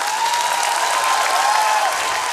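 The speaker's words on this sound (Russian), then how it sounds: "Под ваши аплодисменты." Studio audience applause during a fight-club style comedy show, dense and steady clapping filling the whole stretch at an even level, with no voices over it.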